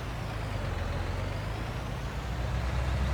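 Heavy, steady engine rumble of a large tractor driving in Farming Simulator 2019, a continuous low drone at constant loudness with no talk.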